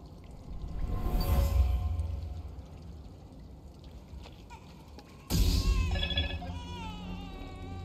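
A telephone rings inside Star Wars Jedi: Fallen Order, a short bright tone burst over the game's ambient rumble, with a louder section of layered tonal chirps near the end.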